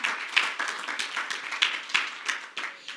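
A small church congregation claps in a quick, uneven rhythm for a few seconds during a sermon, sharp and close, with no voices over it.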